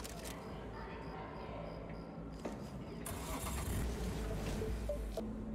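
A car in Cyberpunk 2077 rumbles at low idle, then revs up louder around the midpoint, with brief clicks and soft voices underneath.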